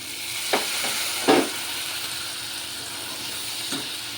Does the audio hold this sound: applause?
no